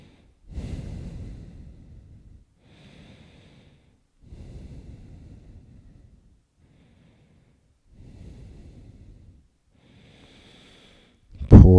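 During a yoga session, slow breaths come out through the nose and mouth in separate soft, airy bursts of a second or two, with quiet gaps between them and a sharper sound at the very end.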